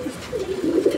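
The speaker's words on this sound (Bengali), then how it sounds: "এটা হচ্ছে কোকা কবুতর। অ্যান্ড এটার ব্রিডটা হচ্ছে যে অ্যারাবিয়ান" An Arabian Koka pigeon coos close by in one short, low, throaty rolling call.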